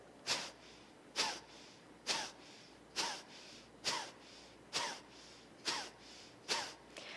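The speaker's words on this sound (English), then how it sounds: "a series of short, sharp inhalations and exhalations through the nose" Eight short, sharp nasal breaths pushed out in a steady rhythm about once a second, each a quick forceful snort-like puff, close and clear.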